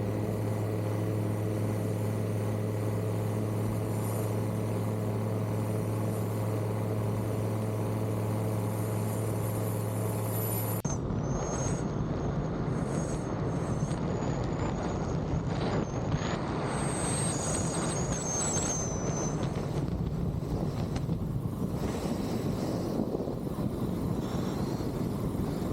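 Aeroprakt A22LS light aircraft in flight, a steady loud propeller-engine drone that shifts in tone partway through, with a continuous broadband rush of wind and engine noise throughout.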